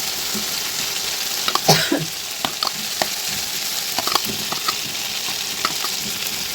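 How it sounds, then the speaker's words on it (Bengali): Masala with tomato fries in a pan for a vegetarian potato and pointed gourd dish, a continuous sizzle with repeated spatula scrapes and taps against the pan, close and fairly loud, no speech. "একটু জল দিয়ে ভালো করে কষিয়ে নেব"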